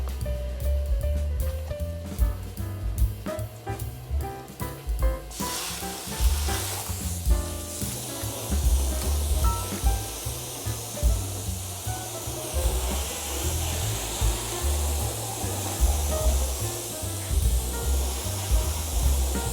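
Water sprayed onto a Nissan Frontier pickup truck during a wash, a continuous hissing spray that grows broader and louder partway through, close by and with no talk.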